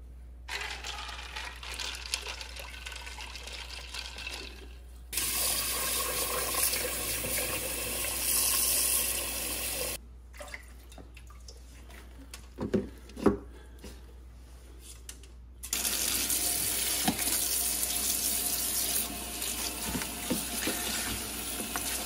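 Tap water gushes into a container in several bursts, with quiet gaps of handling and clunks between the runs of flowing water.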